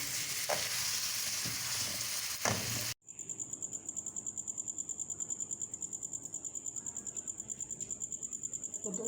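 Green chilli and onion mince made with bullet green chillies simmers on a low flame, giving a soft, steady sizzle with a gentle pulsing rhythm after a brief, different opening stretch.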